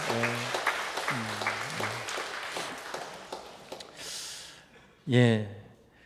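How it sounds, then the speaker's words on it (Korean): Congregation applause during a Sunday worship service at a Korean church, welcoming a missionary, a dense wash of clapping running under a voice for several seconds. "우리 한번 격려의 박수 쳐주시길 바랍니다"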